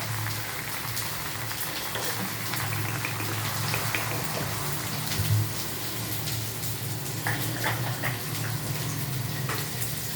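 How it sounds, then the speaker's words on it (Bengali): Water pours into a pan of jackfruit and prawn curry, giving a continuous splashing, bubbling wash at close range that lasts the whole time, with no talking. "এবারে আমি এতে একটু জল অ্যাড করে দেবো"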